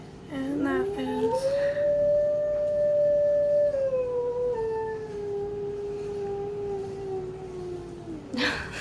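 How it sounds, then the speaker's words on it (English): A dog howls in one long, sustained, wavering note lasting several seconds, fairly close and alone in a quiet room. "my dog's howling"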